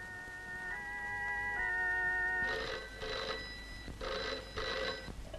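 A telephone rings in repeated bursts, with a bright electronic trill sounding four times at an even pace. Before the ringing there is a steady tone on the line, as if a call is being placed.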